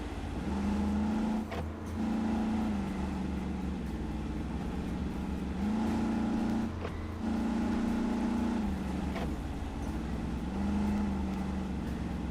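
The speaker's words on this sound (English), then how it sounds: "the engine always sounds like it's doing 80 miles an hour with the engine revving like it does" An off-road vehicle engine in the video game RoadCraft drones continuously and loudly, its pitch rising and falling in repeated revving surges, with no voices over it.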